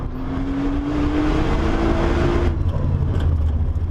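Nissan GT-R Nismo engine at full throttle on a Nürburgring lap in third gear, a loud, sustained in-car roar with one rising tone that climbs toward the rev limiter, then settles, with no talking.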